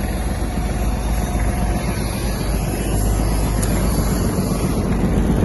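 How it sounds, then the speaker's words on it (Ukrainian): Kubota GL-200 Japanese mini tractor idling stopped while its PTO-driven rotary tiller keeps spinning, a loud, steady low engine drone and mechanical churn with wind buffeting, no speech. "І таким чином я можу навіть зупинити трактор. А фреза як працювала, так і працює."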